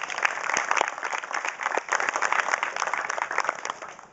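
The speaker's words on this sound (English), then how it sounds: "you can give yourselves a round of applause" Crowd at an annual county Democratic picnic applauding outdoors, a continuous wash of many hands clapping at fairly close range, steady without pauses.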